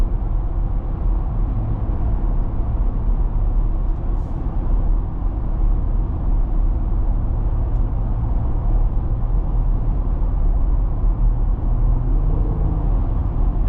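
A 2023 Jeep Rubicon 2-door cruises on a road, its engine and tire rumble forming a steady, loud cabin drone with no talking.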